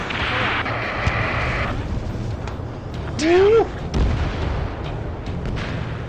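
Rocket explosions in the Ace Combat 7 aerial combat game, a burst of booms and a rising whoosh around the middle, layered under busy battle noise and shouted radio chatter.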